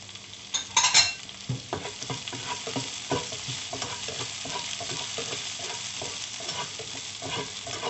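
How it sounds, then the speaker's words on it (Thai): Dried chilies are stir-fried in a hot pan with a continuous sizzle, punctuated by repeated scrapes and clacks of a utensil that are louder at the start, and no voice is heard. "คั่วไปให้มีกลิ่นหอมนะคะ"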